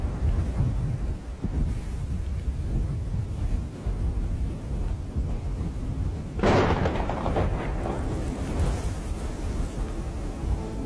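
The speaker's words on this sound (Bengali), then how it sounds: "আকাশে বিদ্যুৎ চমকাচ্ছে, ভীষণ মেঘ করেছে।" Thunderstorm with lightning and heavy clouds: a constant low rumble and wind buffeting on the microphone, with a sharper crack of thunder about two-thirds of the way through that fades back into the rumble.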